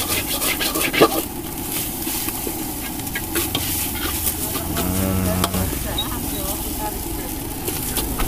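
Nasi goreng fried rice sizzling in a wok at a street stall while being stirred and scraped, with steady frying hiss, metallic scrapes and a brief engine-like hum in the background.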